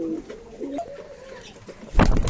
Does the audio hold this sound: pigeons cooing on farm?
yes